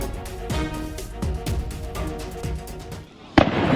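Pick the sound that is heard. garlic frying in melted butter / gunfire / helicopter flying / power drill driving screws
gunfire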